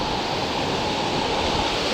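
A steady, dense roar of the flooded, fast-flowing Ulhas River, its water risen up to a bridge, fills the scene, loud and constant with no pauses or voices.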